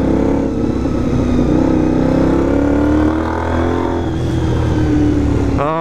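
Harley-Davidson motorcycle with a loud exhaust revving and pulling away through town traffic, a deep, steady, close-up engine rumble that builds and holds with no talking over it.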